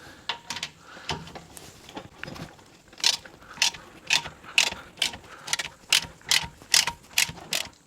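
A ratchet wrench loosening the lower drain plug bolt on a Holden Commodore differential, with a run of quick, evenly spaced mechanical clicks that grow louder and sharper toward the end, close up and without talk.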